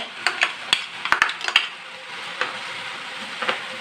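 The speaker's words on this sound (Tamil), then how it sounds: "கொஞ்சம் பச்சை வாசனை போகிற வரைக்கும் கொஞ்சம் வதக்கிக்கோங்க" Masala with chili powder and tomato sauce sautéing in a pan for a sandwich filling, a steady sizzle with several sharp spoon clinks against the pan early on.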